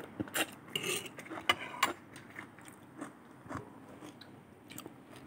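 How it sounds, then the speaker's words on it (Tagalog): Close, crisp crunching bites of bean sprouts in a dish of prawns and vegetables, a quick burst of several crunches early on, then slower scattered chews, with no talking. "Crunchy ang bean sprout."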